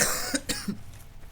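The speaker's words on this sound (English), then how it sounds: "Stop making me cough." Three short, harsh coughs in quick succession, close up, with a brief pause between each and no talking.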